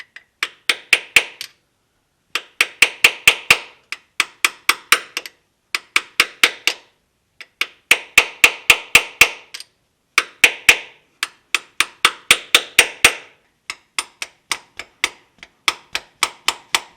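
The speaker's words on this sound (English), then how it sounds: "I like to overhang my drift, so that way it will contact the outer case here and I won't drive it in too deep." A drift is hammered against a seal going into a 3rd gen Toyota 4Runner transfer case, sharp ringing metallic blows struck in quick bursts of four to eight, loud and close, with brief pauses between series.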